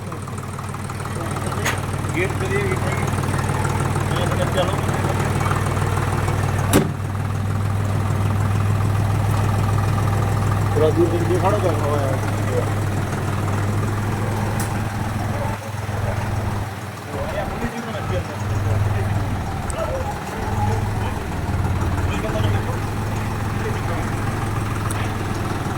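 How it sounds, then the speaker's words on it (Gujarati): A Deutz-Fahr tractor engine idles steadily throughout with a low, constant rumble, while people talk over it. "આપણે ટ્રેક્ટર સ્ટાર્ટ કર્યું. ટ્રેક્ટર સ્ટાર્ટ થઈ ગયું."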